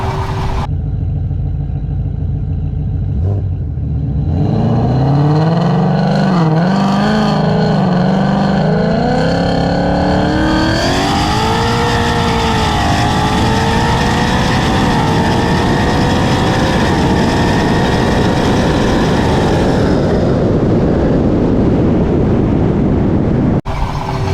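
A loud race car engine roars continuously during a drag pass, building from a low rumble into a rising, revving drone that holds at full volume before tapering off near the end.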